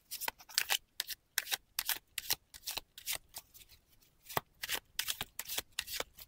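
Playing cards are shuffled in a quick series of crisp riffles and flutters, close and fairly quiet, with short pauses between bursts.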